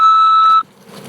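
A single sustained electronic tone from an automated prison phone call system sounds loudly for about half a second, then cuts off to faint line noise.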